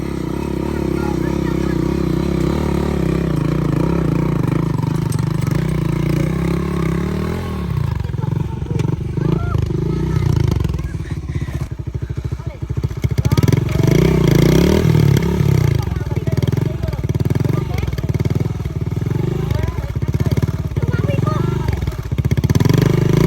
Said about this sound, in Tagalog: Yan po yung motor na sinasakyan natin.